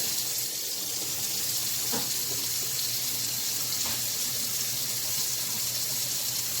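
Hot water runs from a kitchen tap in a steady, even hiss for several seconds, close by and moderately quiet, with a couple of faint knocks in the background.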